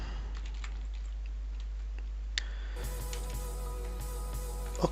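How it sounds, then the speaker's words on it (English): Keys tapped on a computer keyboard while entering a search, a few soft scattered clicks over a constant low hum, with a brief louder tap midway. "you go also to the search bar here and you type group"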